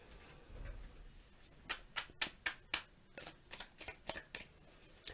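Tarot cards are shuffled in a quick series of crisp riffling snaps and soft slaps, close and fairly quiet, with no talking.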